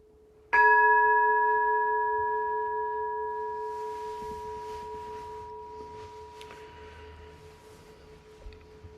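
An ancient temple bell is struck once, sharp and close, then hums with a long, steady ringing tone that fades slowly over several seconds against a quiet room.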